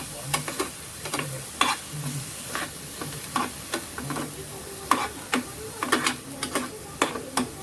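Boiled sweetcorn kernels sautéing in homemade butter in a pan, a soft sizzle under repeated sharp clicks and scrapes of a spoon stirring at an irregular rhythm.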